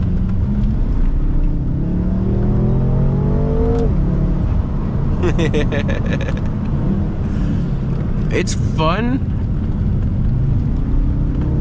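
BMW M5 being pushed sideways through corners on wet roads, its engine revving and rising in pitch in repeated bursts, loud and close from inside the cabin, with someone talking over it.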